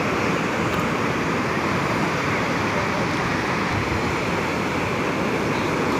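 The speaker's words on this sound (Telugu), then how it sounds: "అలలు చూడొచ్చు." Sea waves at Rushikonda Beach in Visakhapatnam make a steady, broad roar of surf with wind buffeting the microphone, continuous and fairly loud with no distinct breaks between waves.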